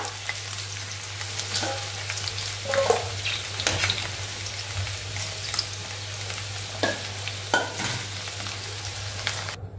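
Drumsticks and potatoes sautéing in hot oil in a kadhai, a steady close sizzle with a low hum beneath it and periodic scraping clinks as a spoon stirs the pan.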